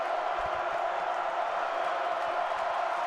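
A steady, loud roar from a packed stadium crowd at a Penn State home football game against Ohio State, a constant wash of noise under a broadcast commentator's voice.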